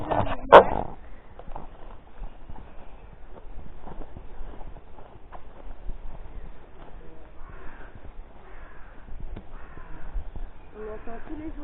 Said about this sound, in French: On entend tous les oiseaux de la nature.